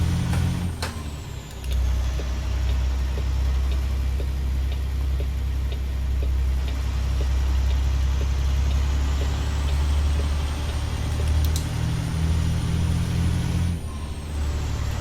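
Zeemods DD60 diesel engine in a W900L truck in American Truck Simulator, a steady low droning rumble throughout with a brief hiss and a slight pitch shift as the engine revs, loud and close, no voices.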